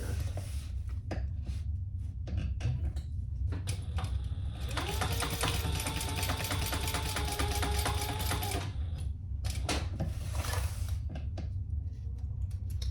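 Sewing machine stitching rows along the edge of a fabric festival hip bag, a steady rapid mechanical whir running for about four seconds, set between softer handling clicks and bumps.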